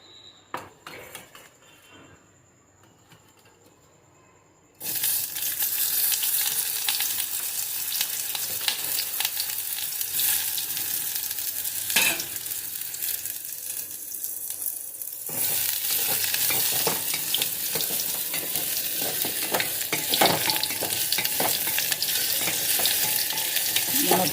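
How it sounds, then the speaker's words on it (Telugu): Moringa drumsticks dropped into hot oil for a masala curry, a loud sizzle that bursts in after a quiet start and keeps crackling steadily, with stirring scrapes and a few utensil clinks. "మునక్కాడలు వేపుకోవాలి"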